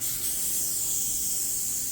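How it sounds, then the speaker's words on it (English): Lysol disinfectant aerosol sprayed in a home onto cherry wood furniture and floors, a steady continuous hiss lasting about two seconds, close and alone with no talking. "give it a spray, let it fall to wherever it's going to go, and let it sit."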